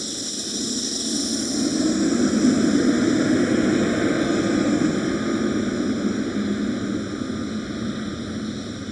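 A JetBlue airliner at Amsterdam Schiphol airport, a broad steady engine roar that swells and then eases slightly as it passes, loud and continuous with no voices.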